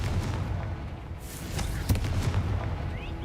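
A Confringo fire spell exploding in a Harry Potter video game, a dull booming blast with a sharp crack near the middle over a rumbling game soundscape.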